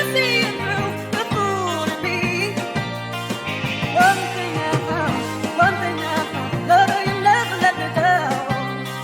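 A recreated version of Blackjack's "Maybe It's the Power of Love" sample plays as dense, continuous music with steady bass notes, rhythmic hits and layered melodic lines, loud and close, with no voices over it.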